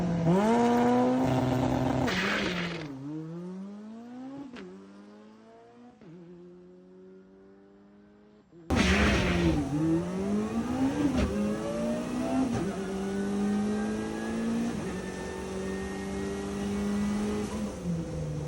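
Rebuilt Honda drag car with no clutch making a drag strip pass: the engine screams loudly through rapid upshifts, each rising rev sweep cut by a brief gear-change dip, then a short lull before another loud, rising wail.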